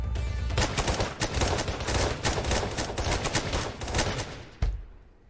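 Sustained, dense gunfire with many overlapping rapid shots crackles loudly for about five seconds, with a heavier single blast near the end before it stops.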